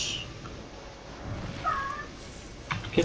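A cat meows a few times, short and moderately close, over faint background sounds from a Diablo 3 game session.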